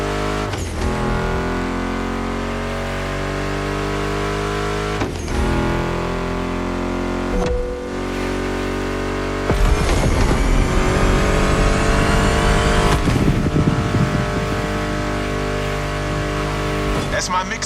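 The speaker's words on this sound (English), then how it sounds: "Meshes well with the sound of the engines, you feel me?" Car engines in the racing video game The Crew Motorfest roar loudly and continuously, revving up through rising gear pitches with abrupt shifts, under game music and talk.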